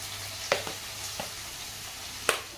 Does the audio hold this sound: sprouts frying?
yes